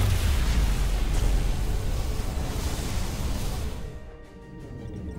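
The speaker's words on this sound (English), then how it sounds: "Dilithium explosion!" Dilithium crystal explosion in the video game Star Trek Resurgence, a broad roaring blast that rumbles heavily at first, then fades into a thinner hiss and settles to quiet.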